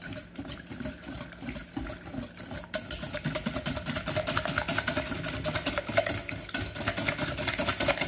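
Coconut custard pie filling, an egg custard with coconut, being beaten together in a bowl, a steady fast whirring and scraping that grows louder and busier after the first few seconds, heard alone without talk.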